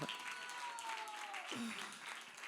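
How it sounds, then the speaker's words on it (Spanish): A church congregation applauds in praise, producing a soft, faint wash of clapping spread across the room, with a voice sounding over it. "Gloria a Dios por ese aplauso."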